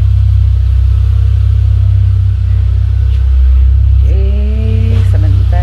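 A 1992 Honda Civic Estilo engine idles with a loud, steady low rumble at night, and near the end it revs up in a few quick rising pulls.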